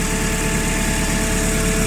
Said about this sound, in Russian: Работает, как слышно, ну, просто очень тихо и очень ровно.